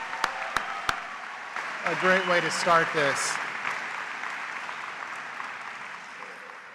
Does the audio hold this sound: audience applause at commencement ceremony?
yes